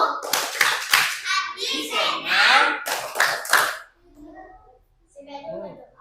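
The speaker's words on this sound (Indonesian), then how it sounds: "sebelum pulang mari kita tepuk pulang dulu" Primary schoolchildren in an Indonesian classroom clap a rhythmic chant before going home, bursts of sharp hand claps mixed with children's voices, ending in a brief pause and then quieter talk.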